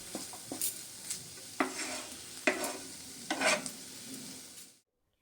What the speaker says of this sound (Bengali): খুব ভালো করে নেড়ে চেড়ে ভাজা মশলাটা আমি মিশিয়ে নেব